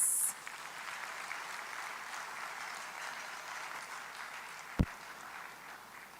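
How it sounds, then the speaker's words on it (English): Audience applause at a diaspora summit, a steady wash of clapping from a large hall, fairly distant, with one sharp bump partway through. "Please give a round of applause"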